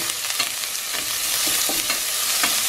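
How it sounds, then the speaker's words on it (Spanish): Serrano chile and garlic frying in a pot, giving a steady close sizzle with faint, irregular stirring scrapes mixed in. "el chile serrano y el ajo a que se sofrían por 1 minuto"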